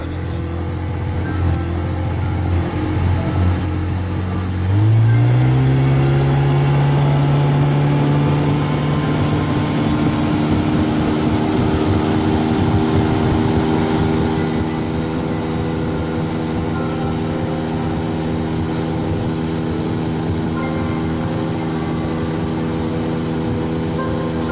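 A boat engine off Sorrento idles with a low rumble, then is throttled up hard, its pitch rising and settling into a loud, sustained drone over rushing water as the boat speeds across the sea.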